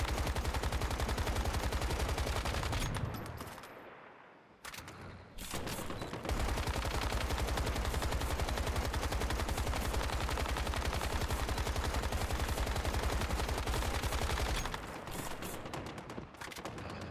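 Rapid automatic gunfire in the video game Once Human, a dense continuous volley running nearly throughout with one brief lull, loud and close, with no talking.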